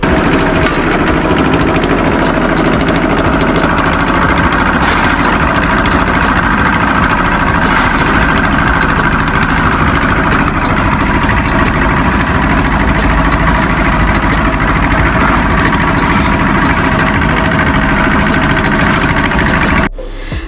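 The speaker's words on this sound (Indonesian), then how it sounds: "suara mesin molen yang sangat keras menyebabkan kebisingan" A diesel concrete mixer engine at a road construction site runs loudly and steadily, a constant rumbling drone with a vibrating, jackhammer-like rattle that holds nearly unchanged for about twenty seconds before cutting off abruptly.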